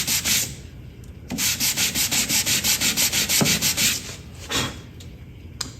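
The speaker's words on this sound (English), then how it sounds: "just taking some 150 on a sanding block." Rhythmic rasping strokes of 150-grit sandpaper on a sanding block over a wooden dresser, quick back-and-forth scrubbing in a steady pattern, close up.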